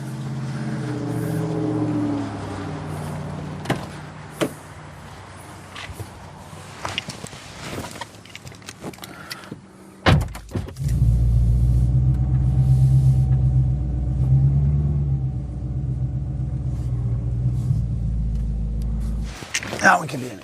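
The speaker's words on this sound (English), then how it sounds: "Let's pull the M3 in." A BMW E92 M3 pulls into a garage. Quiet shuffling and brief knocks give way to a loud, steady, low engine rumble that lasts about ten seconds, with a voice speaking briefly.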